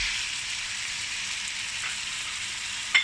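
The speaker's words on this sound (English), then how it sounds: "I'm going to throw in the tomatoes." Tomatoes added to onion and ginger garlic paste frying in a pan for South Indian chicken gravy, giving a steady, loud, close sizzle throughout and a brief clink near the end.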